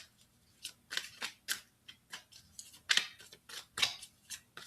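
Tarot cards are shuffled and handled at close range in a quiet room, with a series of short, crisp riffling and snapping bursts at an uneven rhythm.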